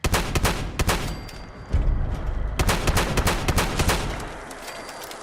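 Rapid bursts of loud gunfire come in a post-apocalyptic first-person shooter game: clustered automatic shots, a brief lull, then another dense volley, with no speech.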